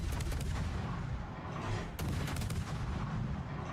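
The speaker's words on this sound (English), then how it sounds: "Matter of fact, you're shooting." Warship guns firing in World of Warships make a dense, continuous barrage of booming artillery reports, loud and close, with a sharp crack near the midpoint and no voices.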